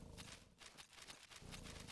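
Footsteps in the video game Final Fantasy XI, a run of soft, regular clopping steps, close and moderately loud with no talk over them.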